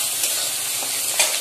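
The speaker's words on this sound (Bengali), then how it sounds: "এই যে পেঁয়াজগুলো ভেজে নিচ্ছি ভালো করে" Onions frying in a pan give a dense, continuous close sizzle with a couple of small bursts of crackle, no voices.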